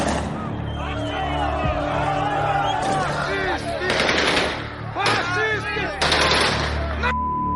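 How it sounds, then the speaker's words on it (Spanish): Armoured vehicles of an army convoy fire into the air at a protest in Kherson: repeated rapid bursts of automatic gunfire ring out over shouting and crowd voices. "Al principio no me di cuenta de que estaban disparando al aire."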